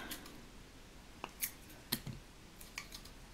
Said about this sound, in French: alors, on coupe deux morceaux de fil.